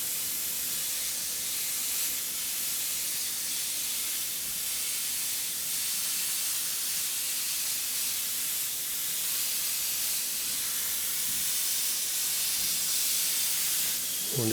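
An airbrush sprays a coat of paint onto a panel for a marble effect, giving a steady, continuous hiss that stays even and moderately close throughout, with no talking.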